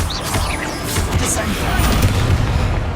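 Bombarda and Confringo blast spells go off in the Hogwarts Legacy video game, a dense run of loud, booming explosive impacts and crashes layered over busy combat noise throughout.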